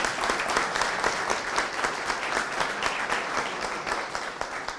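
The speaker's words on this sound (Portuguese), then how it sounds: "também uma salva de palmas para vocês" Audience applause at a press conference about Vila Socó and Vila São José, a steady, fairly loud patter of many hands with no clear talking.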